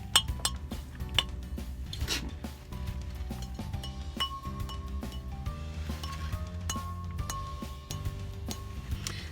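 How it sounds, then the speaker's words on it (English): Ironstone lid struck, giving a few bright clinks with short ringing tails, quiet, mixed with scattered clatter of dishes and cutlery at a garage sale. "Ironstone sounds like a bell when you ring it."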